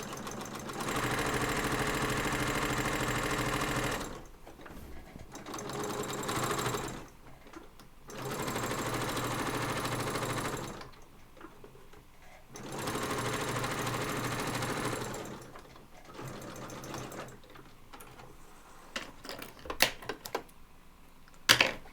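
A sewing machine runs in several long steady bursts, stitching a cross body bag under pedal control, with short pauses between runs and a few small clicks near the end.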